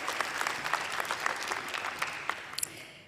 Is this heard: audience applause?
yes